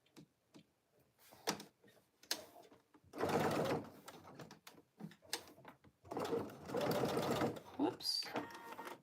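A sewing machine stitches cargo pants in short close bursts of rapid mechanical whirring, broken by pauses with soft clicks and handling noises.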